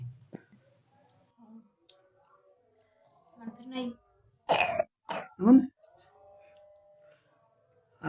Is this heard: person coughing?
yes